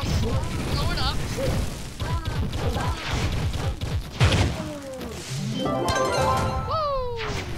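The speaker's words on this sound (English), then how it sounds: "Blow up the bomb! Throw the bomb. Blow it up." A bomb blows up in the video game Trove with a loud crashing boom among clattering in-game effects and synth tones, while a player talks excitedly over it.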